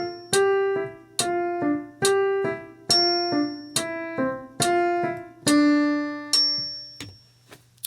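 Piano plays a beginner right-hand exercise, a simple stepwise melody of clear single notes in an even rhythm, closing on a longer sustained note, quiet and alone with no talking.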